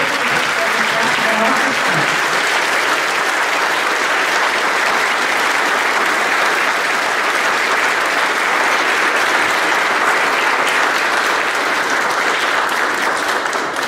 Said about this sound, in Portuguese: uma salva de palmas para essas duas pessoas